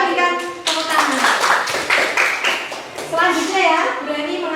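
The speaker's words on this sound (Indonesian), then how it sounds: "berikan tepuk tangan" Classroom students clapping together in a lesson, rhythmic group claps ringing through the room while children's voices chatter over and around them.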